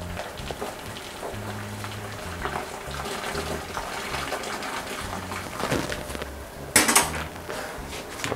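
Hot water is poured into the juice bag of a home wine kit, a steady wash of splashing liquid with a brief louder gush near the end and a few faint knocks.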